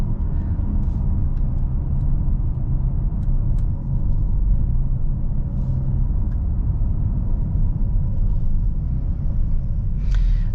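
A 2023 Mercedes GLA 35 AMG SUV driving in sport mode, a steady loud low engine and road rumble heard from inside the cabin, continuous with no talking.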